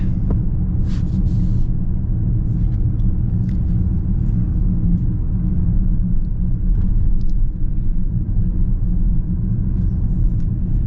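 A 2026 Mercedes GLE 63 S with its V8 pulls steadily from inside the cabin, a smooth, muted low engine rumble with road noise that holds even throughout, no talking over it.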